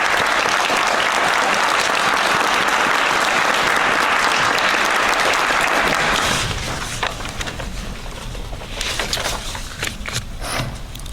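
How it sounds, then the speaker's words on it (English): A school auditorium audience at a community evening school graduation breaks into loud, dense applause that holds steady for about six seconds, then thins into scattered, fading claps. "Please give yourself a well-deserved round of applause."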